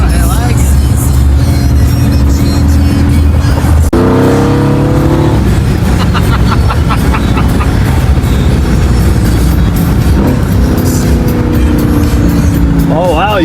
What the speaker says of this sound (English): Oh wow, you downshift good too.